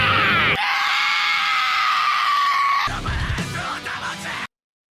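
A person lets out a long, loud, strained scream that holds for over two seconds, followed by a rougher burst of yelling that cuts off abruptly.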